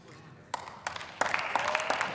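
Scattered applause in a parliament chamber, a few isolated claps at first, then a brief, faint round of clapping from several people under quiet room tone.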